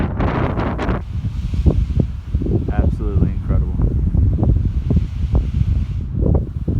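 Gusty mountain wind in the Roan Highlands on the Appalachian Trail buffets the microphone in low rumbling bursts while a person speaks briefly.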